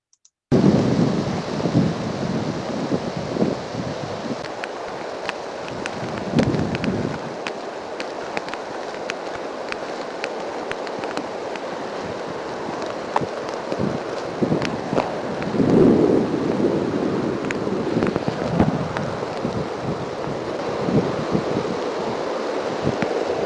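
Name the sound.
recorded cannon or musket fire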